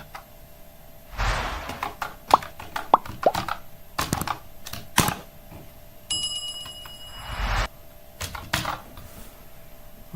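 A computer keyboard is typed on in scattered bursts of sharp clicks, alongside a few louder whooshing and chiming interface-like sounds, with no talking.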